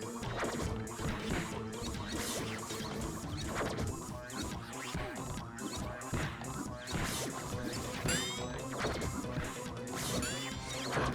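Boomerang hits from the Ty the Tasmanian Tiger video game in a rainforest level, a steady run of sharp smashes, thwacks and whooshes repeating over busy game music and effects, with no talking.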